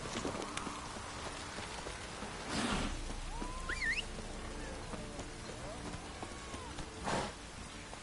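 Hooves of a horse clip-clop in Witcher 3, a faint steady rhythm under quiet game sounds, with a couple of louder bursts and a voice briefly speaking.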